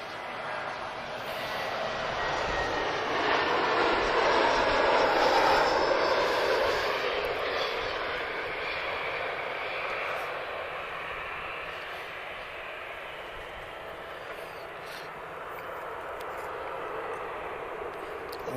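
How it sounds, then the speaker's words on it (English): An EasyJet Airbus A320 jet airliner at Lisbon Airport gives off a broad engine roar that swells and then slowly fades while taxiing or passing at a distance, with occasional talking nearby. "EasyJet's A320."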